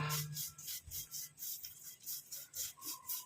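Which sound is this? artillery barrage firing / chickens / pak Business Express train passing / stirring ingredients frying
stirring ingredients frying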